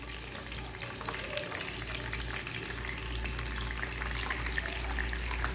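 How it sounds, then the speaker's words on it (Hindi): Sliced bitter gourd (karela) sizzles steadily in hot oil in a pan for dhaba-style karela pyaz, a constant, even crackle and hiss at moderate volume with no voices. "तो मैं अब इसको फ्राई कर देती हूँ।"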